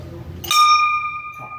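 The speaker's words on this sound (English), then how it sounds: "You can ring the bell." A temple bell at a Mahadev shrine is struck once, giving a bright metallic clang that rings on with a long, clear sustain. A voice is heard briefly just before the strike.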